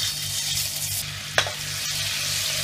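Turmeric and chili paste sizzles steadily in hot oil in a pan, a close, even frying hiss with a brief stirring scrape partway through and no talk.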